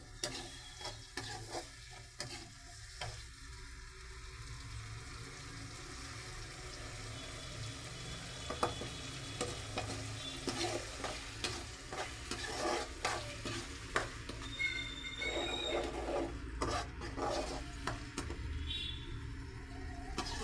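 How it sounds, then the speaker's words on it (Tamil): Tomatoes sauté and get stirred in a pan for a sankara fish gravy. A soft, continuous sizzle runs for the whole stretch, broken by repeated scraping and clinking strokes of the spoon. "தக்காளி கொஞ்சம் நல்லா கலர் மாதிரி சுண்டி வரும், அது வரைக்கும் நல்லா வதங்கிக்கணும்."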